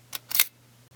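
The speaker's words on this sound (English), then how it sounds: "It is a leaf shutter, not a focal plane shutter." The leaf shutter of a Chinon Memotron camera fires in two quick close clicks with a faint hum underneath.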